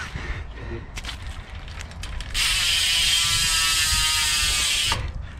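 A Noah bicycle rear hub with 120 engagement points spinning freely on a dirt jump trail, giving a loud, dense, buzzing ratchet whir for a few seconds that cuts off abruptly, preceded by a few quieter clicks.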